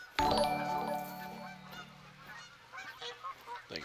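Birds honk loudly from a game of The Hunter: Call of the Wild, a sharp burst at the start ringing on as a sustained tone, then fading into softer scattered calls near the end.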